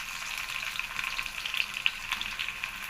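Mustard seeds and onions frying in oil in a small kadai, a steady close sizzle with scattered crackles and pops from the seeds, continuous with no talk.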